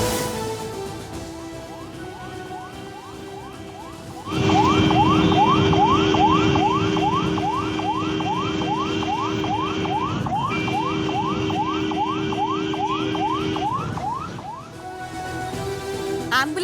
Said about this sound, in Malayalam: ആംബുലൻസിന് വഴി കൊടുക്കാതെ ബൈക്ക് യാത്രികരുടെ അഭ്യാസ പ്രകടനം